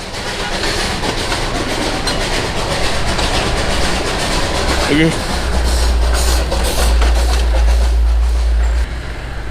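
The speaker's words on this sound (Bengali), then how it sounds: "সেই বিখ্যাত দার্জিলিং টয় ট্রেন আমার বাঁ দিকে ছিল" The Darjeeling toy train rumbles and clatters nearby with a low engine drone in Darjeeling, West Bengal, while people talk over it and a brief voice speaks.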